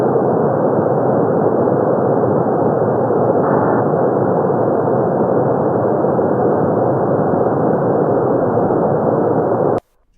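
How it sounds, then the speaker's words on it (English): An ocean hum picked up by underwater hydrophones, heard as a steady, dense, band-limited roar with no variation, like the drone inside an airplane cabin. It holds constant for nearly ten seconds, then cuts off abruptly. "This is the sound of the ocean hum."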